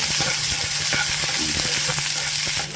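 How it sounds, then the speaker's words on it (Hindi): Finely chopped onion fries in a little hot oil, giving a steady, close, dense sizzle with faint crackles throughout and no voices. "तो प्याज तो हो गया फ्राई"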